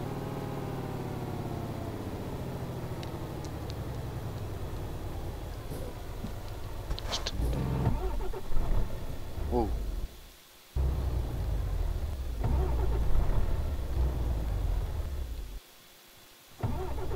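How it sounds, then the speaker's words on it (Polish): A truck engine in Euro Truck Simulator 2 runs with a steady mid-pitched drone that roughens and then cuts out twice, leaving brief near-silent gaps before the sound returns; no speech over it. "Silnik mi gaśnie."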